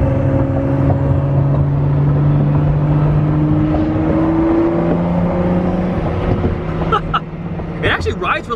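The 2017 Ford GT's engine drones steadily from inside the cabin, its pitch rising and falling with revs, while people converse over it.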